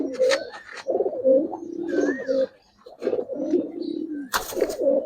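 Giribaz and silver pigeons on a sunny rooftop loft coo in repeated deep, rolling bursts with a brief pause midway, close and clear, alongside some faint chirps.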